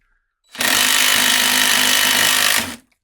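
A DeWalt impact driver with the clutch off drives a screw down to the stop in one sustained, loud burst of rapid hammering that lasts about two seconds before cutting off.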